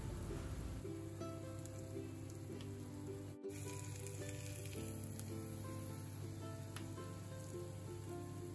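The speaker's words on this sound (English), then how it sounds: "Flip the fish and let the other side cook for 3 minutes." A rava-coated pomfret fish fries in a pan: a steady, fine crackling sizzle with scattered pops holds quietly throughout, broken only by a brief dip partway through.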